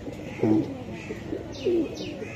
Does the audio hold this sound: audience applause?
no